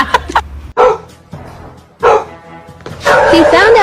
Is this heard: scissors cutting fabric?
no